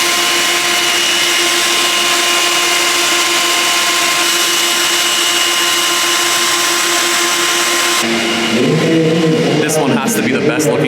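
A Nissan Super GT race car at the Nismo Festival 2023 runs with a loud, sustained engine drone for several seconds before the sound shifts to crowd noise and talking.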